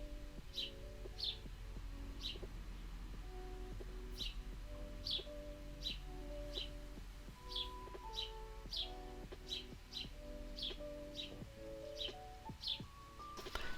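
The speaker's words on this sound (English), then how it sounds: "And here I can listen to some birds again." Birds chirping outdoors, faint repeated high tweets spaced a second or so apart, over a steady low background hum with soft tonal sounds beneath.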